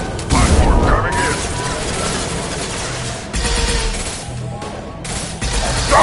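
Mass Effect 2 gunfire, a dense stream of rapid shots and booms, loud and continuous, over a busy battle din with a voice talking over it.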